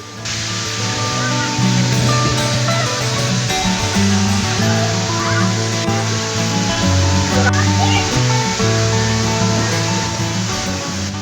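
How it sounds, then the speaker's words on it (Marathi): Nhavankond waterfall in Sindhudurg, dropping about 30 to 35 feet, roars as a steady broadband rush under loud background music throughout. "हा धबधबा जवळपास 30 ते 35 फुटावरून कोसळत आहे"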